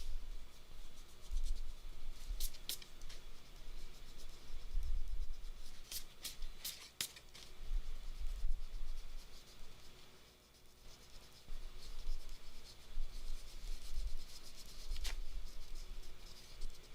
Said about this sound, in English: let's see if we can get rid of a little bit of pencil mark